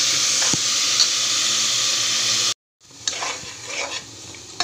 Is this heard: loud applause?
no